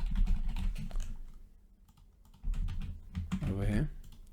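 Fingers tap on a computer keyboard in quick irregular bursts of soft clicks, close and moderately quiet, with a person talking over part of it.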